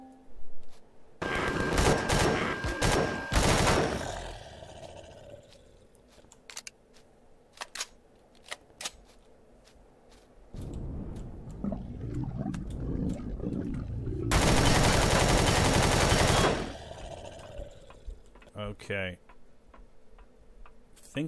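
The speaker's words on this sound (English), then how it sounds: "That was a rail gun." Rail gun fire in the space survival game Empyrion Alpha 8.1.1: two long, loud, dense bursts of shooting separated by quieter stretches with scattered clicks, and a person talks in between.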